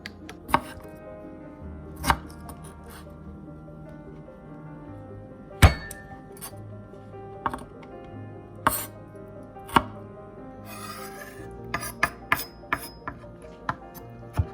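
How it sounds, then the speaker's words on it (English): A knife minces peeled, lightly crushed ginger on a cutting board, giving irregular sharp chopping thuds, some isolated and some in quick clusters, close and moderately loud with no talking. "The ginger is peeled, lightly crushed, then minced."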